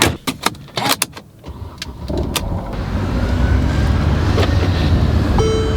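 A car engine catches after a battery swap. A few sharp clicks and knocks come first, then the engine settles into a steady, moderately loud running rumble with a faint high whine near the end.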